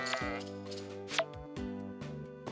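Sheep bleating in the farming game Story of Seasons: Friends of Mineral Town, two or three short wavering bleats over a looping game music backdrop, close and clear.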